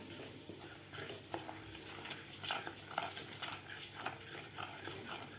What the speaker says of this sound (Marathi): तर व्यवस्थित आपल्याला हलवून घ्यायचं आहे